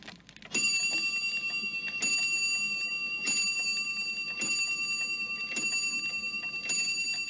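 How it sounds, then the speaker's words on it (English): A shop doorbell rings as a repeating bright metallic chime, a clear ringing tone struck about every second and a half with lingering resonance, fairly loud and alone. "ping went the shop's doorbell"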